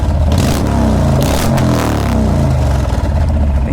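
A Honda Fury cruiser motorcycle engine revs hard under full throttle, climbing steadily and loudly for several seconds until it briefly bounces off the rev limiter, with a dense low rumble throughout and no talking.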